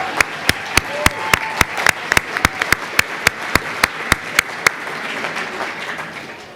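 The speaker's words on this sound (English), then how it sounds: "Round of applause for Ollie." Applause at a holiday party, a room of people clapping with one loud, close pair of hands beating a steady, even rhythm above the crowd before it stops and the clapping fades out.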